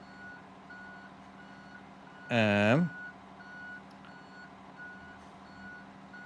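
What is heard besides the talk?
truck reversing beeps in a European trucking video game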